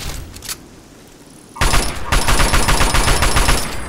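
Rapid automatic gunfire in the Fallout 3 video game, a few isolated shots and then a dense, loud burst of repeated shots that continues to the end.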